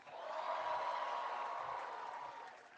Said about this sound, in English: How about another amazing round of applause for Ed Robertson?